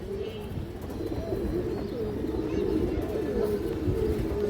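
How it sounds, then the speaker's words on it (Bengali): A large silver-necked female pigeon coos in low, repeated throaty rolls close by, while someone talks over the calls. "সিলভার গলা মাদি কৌতর বড় সাইজের একটা মাদি"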